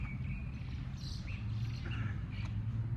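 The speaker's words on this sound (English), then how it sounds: "There's some expressive birds over here, even though I can't see them yet." Expressive birds chirping and calling outdoors, with scattered short high chirps over a steady low background rumble.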